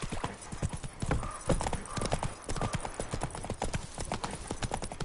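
Galloping horse hooves from The Witcher 3 video game, a quick steady clip-clop rhythm at close range with a brief whinny, carrying on throughout without talk.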